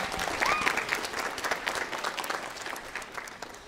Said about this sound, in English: So parents, give yourself a round of applause